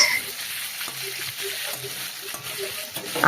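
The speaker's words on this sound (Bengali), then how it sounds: "আর এক হাত দূরে থেকে আমি মাছটা ভাজছি" Stingray fish frying in a pan of hot oil for a curry, a continuous crackling sizzle with light stirring and scraping, close and steady with no talk.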